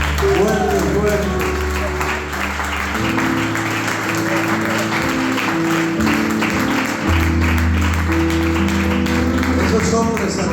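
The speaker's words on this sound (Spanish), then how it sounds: "el aplauso al Padre, al Hijo y al Espíritu Santo" Congregation applauding loudly in a church service, steady clapping sustained throughout over organ or keyboard chords and some voices.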